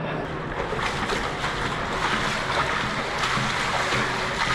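Water pours and splashes down steadily inside an underground storm drain chamber, a dense, close, continuous roar of spray filling the space without pause.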